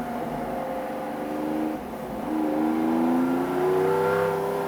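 The Lamborghini Diablo SVR, the factory race car, roars loud and close from inside the cabin, its engine note dropping briefly as it shifts into second gear, then climbing again in a steady strained drone.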